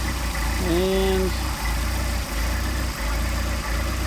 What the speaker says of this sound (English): Now while we're at it here, we're idle of about almost 800.